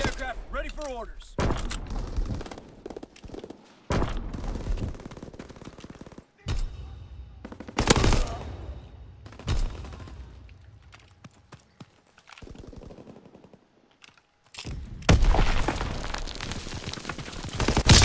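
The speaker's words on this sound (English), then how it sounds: "Inbound, strafing the target." Aircraft strafing run in Call of Duty: WWII, with bursts of machine-gun fire coming in separate loud blasts between quieter stretches of game ambience, while game voice lines play.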